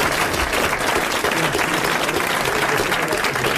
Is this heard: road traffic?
no